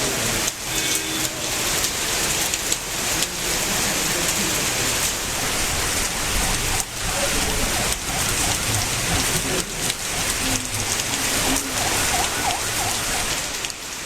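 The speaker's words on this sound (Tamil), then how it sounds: "பகுதிகளில் இடி மின்னலுடன் கூடிய கனமழை பெய்தது." Heavy rain pours steadily over a Tamil Nadu town in a thunderstorm, a loud dense hiss of rain on surfaces that holds for the whole stretch, with no clear thunder.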